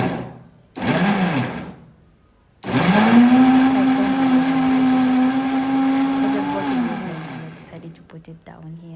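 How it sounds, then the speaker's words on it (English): A kitchen blender whirs through hot pepper with vegetables for a spicy goat meat dish, starting with a short burst, pausing, then running steadily for several seconds with a rising then falling motor whine before stopping. "So I'm gonna close my blender and transfer it and blend it straight away."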